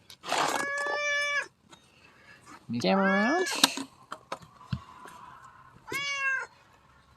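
A cat meowing loudly and insistently close by, three long drawn-out meows with pauses between, a few quieter sounds in the gaps and a brief spoken phrase near the start.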